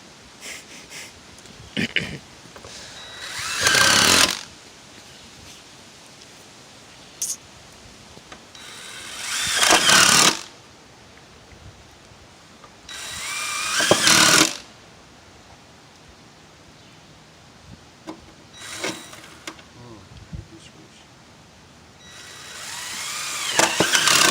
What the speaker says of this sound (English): Actually see a hole, I fill it with a screw.